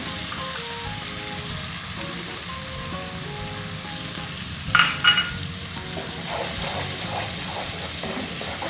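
Food fries in a pan with a steady sizzle and hiss while being stirred, with brief scraping and clinking of the utensil, close and loud.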